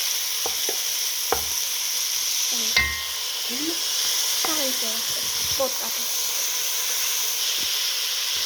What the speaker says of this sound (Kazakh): Сарымсағымыз жаңа қызарған екен. Араластырайық.